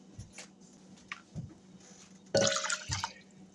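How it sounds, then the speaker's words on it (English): Water is poured into a pot of soaking rice: soft drips at first, then a louder splashing gush of about a second, close by. "I'm going to add 2 cups of water."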